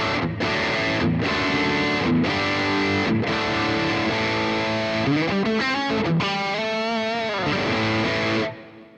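Electric guitar through the BOSS GX-100 Maximum high-gain amp model, thick distorted chords chugging in a steady rhythm with brief stops, then sliding bends and sustained notes, loud and upfront before ending abruptly.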